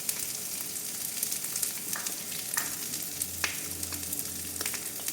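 Onions and green chilies fry in a pan with a steady, close sizzle, broken now and then by light scrapes and clinks as they are stirred.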